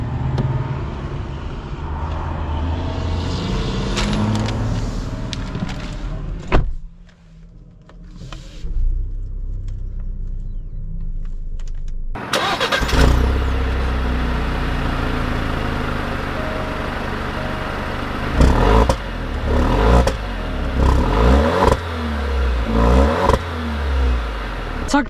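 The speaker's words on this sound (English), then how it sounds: "let's take this Stelvio out," A 2020 Alfa Romeo Stelvio Ti Lusso SUV runs with a steady engine and cabin hum, goes briefly quiet, then sets off with a louder rise in engine and road noise and a few thumps as it drives away.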